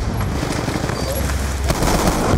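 Dense, continuous gunfire from a Black Ops 2 multiplayer match, with rapid overlapping shots and booms forming a steady loud wash across the whole moment.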